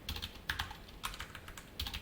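Quiet clicking of a computer keyboard, a few soft, irregular keystrokes close by with no talking.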